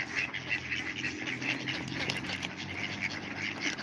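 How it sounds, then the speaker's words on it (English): Several ducks quack continuously at a duck pond, with overlapping calls close by and dense throughout, over faint outdoor background noise. "There's more of the duckies."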